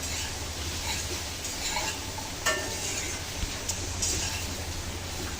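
Potatoes and soybean chunks with plenty of turmeric being stirred in a pan, a steady frying hiss under repeated scrapes and clinks of the spoon against the metal.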